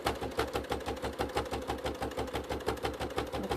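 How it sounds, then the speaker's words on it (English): A sewing machine runs a normal stitch along a quarter-inch seam, its needle chattering in a fast, even mechanical rhythm, close and fairly quiet. "we're going to just stitch that onto there with a 1/4 inch seam"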